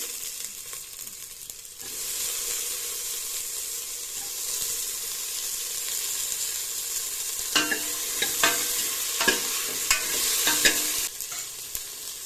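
Horse gram being dry-roasted and stirred in a pan, a steady soft sizzle with scraping stir strokes that turn louder and more frequent toward the end, no voices.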